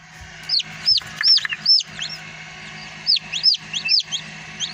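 Newly hatching chicks in an incubator give high, sharp peeps in two quick clusters of about four or five calls each, close and clear over a faint machine hum.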